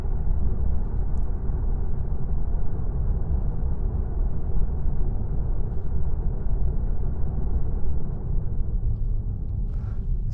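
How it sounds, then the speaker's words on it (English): Tyre and road noise inside a new Tesla Model 3 cruising at 70 km/h: a steady, dense low rumble and roar filling the cabin without a break, loud and constant, with no talking. "So definitely less tyre noise"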